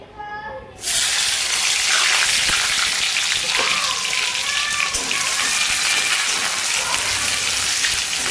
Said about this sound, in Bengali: এবার আমি পেঁয়াজ কুচি করে তেলে দিয়ে দেবো।